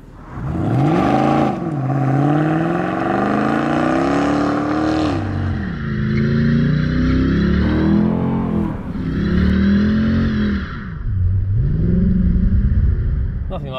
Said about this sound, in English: Nothing like a bit of a burnout to start a review on an AMG legend